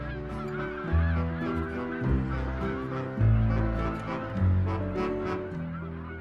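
A flock of wild geese in Germany honks loudly and continuously, with many overlapping calls close by and no other sound.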